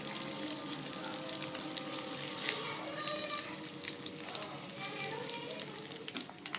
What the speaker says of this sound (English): we have to fry this on slow flame till the dal becomes reddish in color